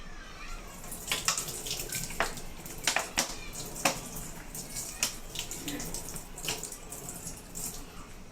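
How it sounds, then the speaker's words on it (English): Tap water runs steadily over a compressed, deformed plastic bottle, with sharp crackles and pops of the plastic breaking through the close hiss of the stream. "Let me put it under the tap."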